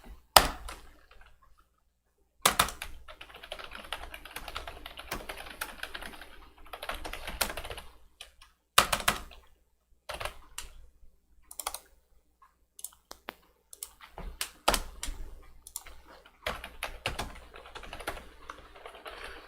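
Typing on a computer keyboard during a live trading session, rapid clattering keystrokes in bursts with pauses and occasional louder key clicks, close and clear with no talking.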